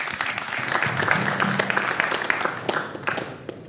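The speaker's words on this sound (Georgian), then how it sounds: "აპლოდისმენტები" An audience at a GAMA Revenant fight press conference applauds in a continuous patter of many hands, moderately loud and steady for several seconds.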